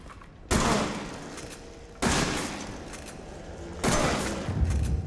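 Three heavy gunshots in Resident Evil 7 boom out about one and a half seconds apart, each a loud blast that decays slowly with a rumbling tail, and no voices.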